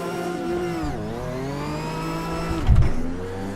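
Race car engine in the racing sim Automobilista 2, a steady loud tonal drone whose pitch dips and rises again, then a brief rough burst near the end as the revs shift, no voices.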